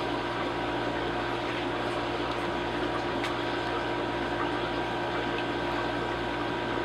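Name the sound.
siphon vacuuming aquarium substrate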